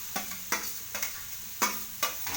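Sprouted legumes stirred and fried in a pan, with five evenly spaced scraping strokes over a low, steady sizzle, heard up close with no talking.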